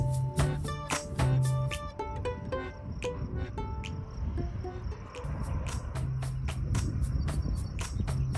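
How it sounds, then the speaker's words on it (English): Crickets chirp in repeated pulsing trills against a quiet outdoor night background in Utah, with some light tapping sounds mixed in, no talking. "It was just so pleasant with the crickets chirping."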